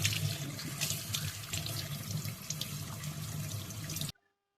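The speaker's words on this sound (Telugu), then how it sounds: "మొత్తం వాష్ చేసుకుంటున్నాను ఇక్కడ బాస్మతి రైస్ని." Basmati rice is washed under a running kitchen tap, giving a steady, splashing stream of water into a sink. The flow stops abruptly after about four seconds.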